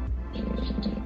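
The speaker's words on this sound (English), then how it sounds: "That is definitely a cat purring." Recorded cat purr played from a star projector's speaker, a soft, low, rhythmic rumbling purr, faint and brief.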